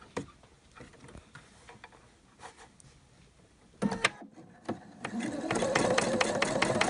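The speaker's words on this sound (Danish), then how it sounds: "Så sætter jeg min maskine på 60 sting zigzag" A home sewing machine set to a wide zigzag with zero stitch length, tacking elastic in place with a few short bursts of ticking, then a steadier whirring run near the end.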